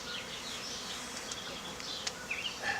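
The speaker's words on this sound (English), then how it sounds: "There's a lot of bees in your face." Honey bees buzzing around a beehive, a thick close swarm drone with individual bees whizzing past, moderately quiet and without talk.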